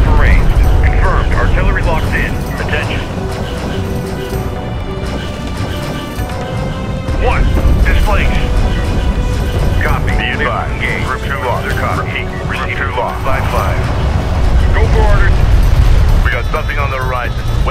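Artillery fire and explosions in the strategy game Homeworld: Deserts of Kharak boom and rumble loudly and continuously, mixed with game music and radio voice chatter over the whole stretch.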